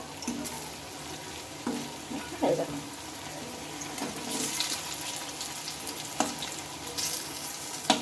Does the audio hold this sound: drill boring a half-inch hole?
no